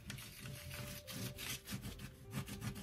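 Steady rubbing and burnishing over paper with a resist, pressed hard with a flat edge, gives a close, rhythmic scraping with repeated back-and-forth strokes.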